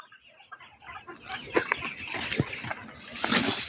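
Ketawa chickens cluck in a farmyard on a hot June day, with scattered short calls and a few louder bursts near the end, alongside faint background speech.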